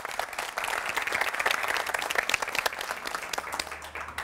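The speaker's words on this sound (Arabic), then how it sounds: "لعائله صفصاف صفقوا عليهم" A studio audience at a family game show claps steadily for the Safsaf family, a dense, lively burst of applause that swells and then thins slightly toward the end.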